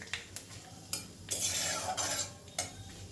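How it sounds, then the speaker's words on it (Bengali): Black cumin and a dried red chilli tempering in hot oil, stirred with a spoon for a bottle gourd lau ghonto; a close sizzle with quick spoon scrapes and clinks over a few seconds, no talk. "হাফ চামচ মতো কালো জিরে ফোড়নটা একটু নেড়ে নিচ্ছি কয়েক সেকেন্ড"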